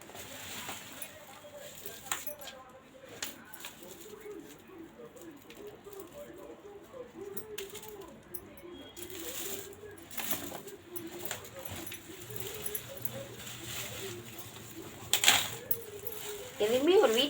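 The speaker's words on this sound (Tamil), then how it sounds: "இப்போ இதோட சேர்த்து கொட்டி வைக்கிறேன்." Onions tumble into a container already holding older big onions, giving a scattered run of light knocks and pattering thuds over about seventeen seconds, with a voice in the background.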